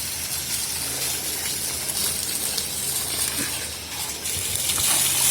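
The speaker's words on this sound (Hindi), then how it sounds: "अब आ गया पानी।" Water from a village motor pump gushes into a clay pot in a steady, loud, hissing rush that continues unbroken and swells slightly near the end.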